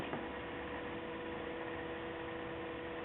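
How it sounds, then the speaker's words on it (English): Toyota Prius high-intensity headlamps with very dirty lenses give off a steady electrical hum and hiss, constant and fairly quiet, with no talking. "is these crazy high intensity headlamps right here"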